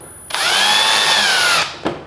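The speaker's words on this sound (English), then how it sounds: "I like to put a few screws in here to just really hold everything together" A power drill drives a screw through a bead of caulk into a canvas duct connector, one close, loud whirring burst of about a second and a half, then a short second pulse as the screw seats.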